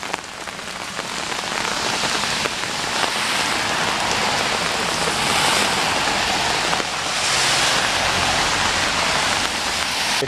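Steady outdoor rain pours down in a dense, even hiss, spattering into puddles close by, continuous and loud with no talking.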